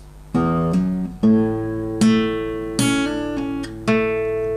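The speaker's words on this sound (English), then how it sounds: "So we're plucking the 2nd string, hammer on the middle finger, and pluck that middle finger away." An acoustic guitar playing a phrase, plucked notes on the second and third strings joined by hammer-ons and pull-offs, in about five clear ringing attacks with sustained decays, close and alone.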